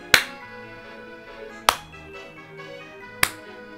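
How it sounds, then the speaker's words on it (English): Three slow, isolated hand claps spaced about a second and a half apart, each a sharp close smack in an otherwise quiet room. "Slow clap."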